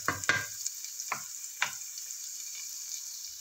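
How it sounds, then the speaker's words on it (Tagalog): Vegetables sautéing in a pan for bihon guisado, a faint steady sizzle with a few soft scraping stirs near the start, then quiet frying alone. "Suti muna natin ang mga gulay."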